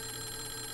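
A telephone rings in the Clock Tower video game, a continuous electronic bell trill held steady and fairly faint, alone without voices.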